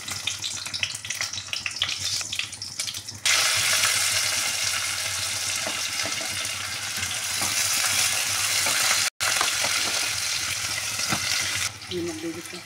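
Panch phoron and green chillies hitting hot oil in a pressure cooker, a loud sudden burst of sizzling from about three seconds on, spitting steadily to the end after quieter earlier kitchen sounds and some background talk.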